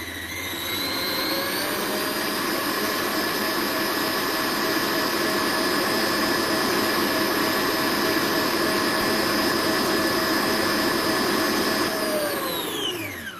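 An electric mixer beats cake batter after sifted flour is added, whirring loudly and steadily at a constant high pitch before spinning down at the end.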